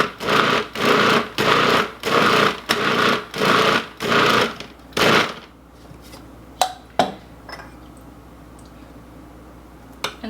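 Pie crust dough with added water being mixed in a machine, a series of loud, even pulsed whirring bursts, then quieter scattered clicks and knocks.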